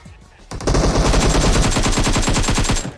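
Rapid, loud automatic gunfire from PUBG Mobile, a dense burst of evenly spaced shots running for about two seconds after a quiet start.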